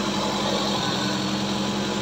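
A Toyota Corolla engine idles in a steady, continuous hum with a low, even drone, heard up close with no talking.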